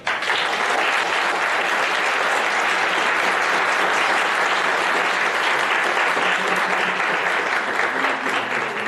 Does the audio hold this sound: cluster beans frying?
no